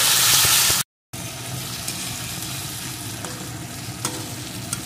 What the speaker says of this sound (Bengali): ও একটু নেড়ে দেব।